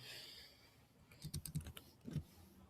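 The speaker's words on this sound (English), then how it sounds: "So let's type in a zip code." Typing on a computer keyboard, a short quiet burst of several key clicks in an irregular rhythm, close and alone over a faint background hiss.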